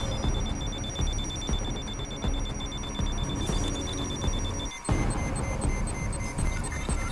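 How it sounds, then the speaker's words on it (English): An electronic alarm rings continuously in the video game Deus Ex: Mankind Divided, a loud, steady repeating tone that cuts out briefly and then resumes, with no talking. "Alarm, eh?"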